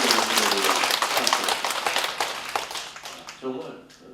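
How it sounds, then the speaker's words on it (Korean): A church congregation at a Catholic spiritual retreat day breaks into applause, a dense wash of clapping that carries steadily for several seconds and thins toward the end, with some voices mixed in. "박수 한 번."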